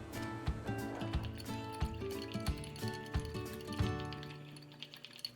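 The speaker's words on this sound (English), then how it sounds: "Now we just gotta whisk it together." Low sodium tamari soy sauce salad dressing whisked together, giving soft, quiet liquid sloshing with a steady run of small clicking taps from the whisk.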